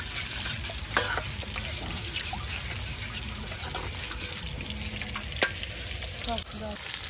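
Food fries steadily in a pan while fried rice and chili chicken are being made, a dense continuous sizzle close up with occasional sharp utensil clinks and scrapes, no voices.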